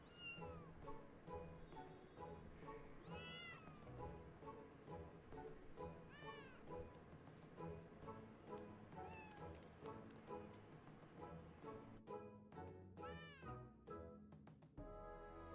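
Several kittens meow over and over in a Final Fantasy game scene, overlapping high cries that carry on steadily for a long stretch, growing busier and louder near the end.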